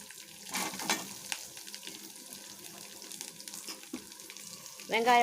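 Sautéing in a pan while making vupurandai, a soft steady sizzle with clinking stirring bursts and scrapes, moderately close, a brief voice-like sound near the end.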